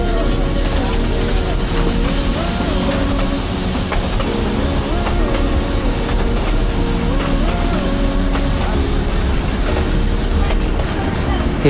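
A train runs steadily on rails near Matheran hill station, a continuous loud rumble with rhythmic clickety-clack and faint wheel squeal throughout, no voices standing out.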